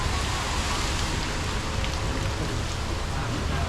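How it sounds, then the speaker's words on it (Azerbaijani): Heavy rain falls in Bangkok near the Wat Arun temple, a dense, steady patter on surfaces that is loud and unbroken throughout the short stretch. "Amma gün dəhşət yağış yağır"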